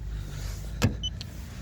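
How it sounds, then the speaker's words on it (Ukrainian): A 2020 Opel Insignia B 1.6 diesel folds its electric side mirrors: a single short motor whir lasting under a second, close by, followed by a faint click against a quiet idle background. "Зеркала тут електричні складуються з підігрівом."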